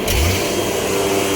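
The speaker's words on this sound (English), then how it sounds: "And then we're going to get even louder when we go ahead and turn on the vacuum." An AXYZ Trident CNC router's vacuum table suction runs as a loud, steady roar with a faint hum. The noise holds even throughout with no talking.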